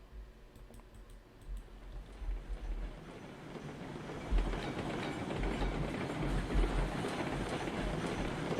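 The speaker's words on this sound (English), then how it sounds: "It never works out that we catch the train." A train in the video game RailRoads Online rumbles along with a low, rolling clatter that grows louder after the first few seconds, mixed with faint keyboard clicks.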